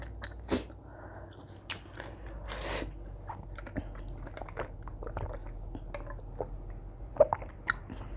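Someone chews a very spicy seafood papaya salad with shellfish, close-up wet crunches and squishy bites coming in irregular bursts against a quiet background, with a few faint words between mouthfuls.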